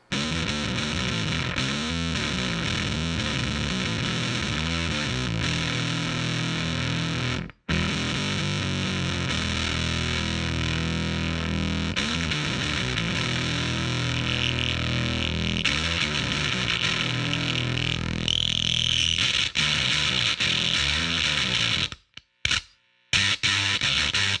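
A guitar plays through a Death by Audio Octave Clang V2 gated fuzz pedal, giving a thick, distorted, octave-heavy tone that runs continuously. It cuts off sharply into gated silences near the end.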